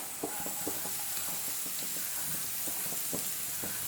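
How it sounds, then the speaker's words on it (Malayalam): Grated coconut stirred into onions frying in a pan, a steady soft sizzle with scattered scraping taps of a spoon throughout, close and moderately quiet, no voices. "ഇനി ഇതിലേക്ക് നമുക്ക് നാളികേരം ചെറുകിയത് ചേർത്ത് കൊടുക്കണം."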